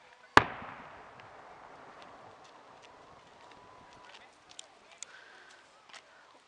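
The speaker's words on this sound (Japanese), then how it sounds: "花火って音はいいですよね。" One sharp fireworks bang at the start with a long fading rumble, followed by softer crackling pops and a few distant bursts, at a cherry blossom festival at Tatsunokuchi Park, Hitachiomiya, Japan.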